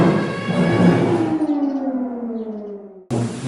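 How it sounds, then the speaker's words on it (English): Air raid siren wailing in wartime, a loud steady tone that slowly falls in pitch as it winds down over a few seconds, then cuts off abruptly before a brief return of sound. "We're going to stop for the siren."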